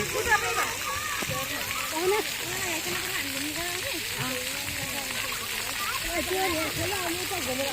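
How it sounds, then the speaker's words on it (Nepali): Water splashes and spatters continuously as it pours from a bucket, with voices talking over the steady wash of sound. "हेरिराख्नु है त्यो बाल्टीको पानी कसरी खस्छ के।"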